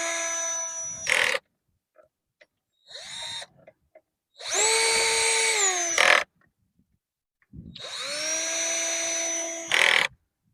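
A cordless power drill, used with its clutch on plastic parts of a dual gate opener, whirs in several bursts that spin up and wind down, each ending with a brief ratcheting chatter, separated by pauses and light handling clicks.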